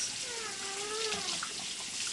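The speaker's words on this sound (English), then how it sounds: "we're going to turn on the water. And we're going to get our hands wet" A running tap fills a sink while hands are wetted for handwashing, a soft, even stream of water close by with a faint tonal whine riding briefly over it.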